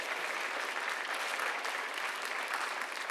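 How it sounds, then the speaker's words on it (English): Audience at a school writers expo applauding, a dense, steady wash of clapping from many hands sustained for the whole moment without pause. "another round of applause, because that was amazing."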